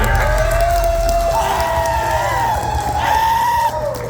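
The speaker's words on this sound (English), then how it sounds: "Everybody, a round of applause to Vesker for showing up" Loud, dense crowd noise from a convention panel audience at a furry convention, with cheering, whoops and shouts layered into a continuous roar that holds steady for the full stretch.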